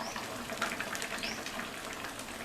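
Water splashes and gushes into a mixer jar as it is rinsed out for a paruppu urundai kuzhambu, a short, fairly quiet, steady pour with light bubbling.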